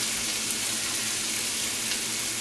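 Half a stick of butter sizzles in a heavy skillet, a steady, close, bright frying hiss that holds evenly throughout with no talking.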